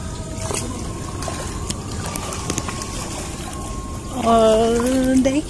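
Rainwater flows in a steady, close rush of broadband noise on the way home, and near the end a sustained tonal call rises above it.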